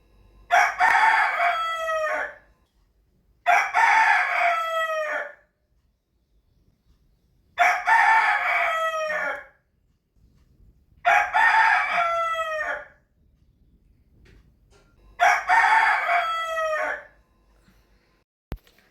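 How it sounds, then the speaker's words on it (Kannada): A rooster crows five times in a row, loud and close, each long call separated by a couple of seconds of quiet. "ಇರಿಟೇಟ್ ಆಗ್ತೈತೆ ನಿಮಗೆ ಈ ಕೋಳಿ ಉಂಜು ಸೌಂಡ್ ಕೇಳಿ ಕೇಳಿ"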